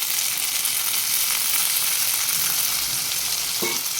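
Curry leaves frying in hot oil for carrot rice, a loud, continuous close-up sizzle and crackle with no talking.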